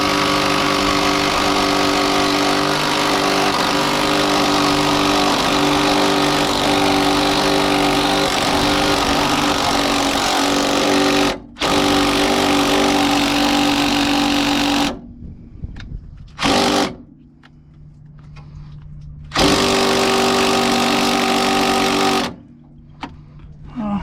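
At a junkyard, a power wrench whirs loudly and steadily against a stripped bolt, cutting out briefly and then restarting in several long runs, close up.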